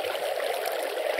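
Minecraft water pours steadily onto signs, a continuous soft trickling stream at moderate level with no breaks.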